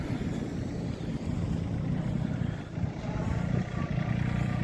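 A small Solis 26 mini tractor engine runs steadily nearby, a low rumbling drone with slight fluctuations and no voices.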